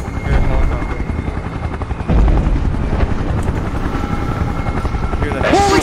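Helicopter rotors thump steadily and loudly in the SCP:VR video game, a continuous chopping drone with gunfire-like bursts and a rising whine near the end, while a voice speaks over it.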